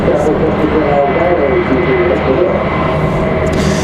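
A JetBlue jet airliner departs Raleigh-Durham International for San Juan, Puerto Rico, its engines giving a loud, steady broadband roar that holds evenly throughout.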